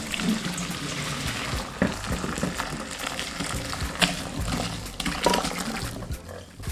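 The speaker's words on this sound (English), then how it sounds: "Drain the pasta and save some of the pasta water." Pasta water pours and splashes in uneven gushes as pasta is drained through a colander into a sink, close with brief louder surges.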